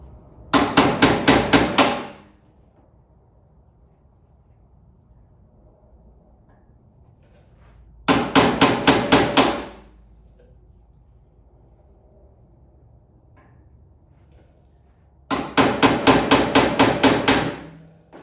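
Three bursts of rapid light hammer taps during fuel system work on a motorcycle, each a quick run of about eight metallic strikes, separated by several seconds of near silence.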